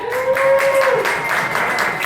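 A crowd at a comedy night applauds, a short dense burst of clapping. A sustained whistle-like tone sounds over the first half and then fades.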